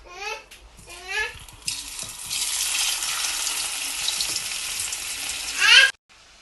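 Potatoes dropped into hot oil for street-style aloo chaat give a loud, steady sizzle and hiss of frying that runs for several seconds, with brief speech-like sounds before it starts.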